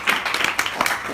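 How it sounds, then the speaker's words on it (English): Banquet audience applauding, a short burst of many hands clapping together at moderate distance, steady and unbroken. "give a clap for you guys"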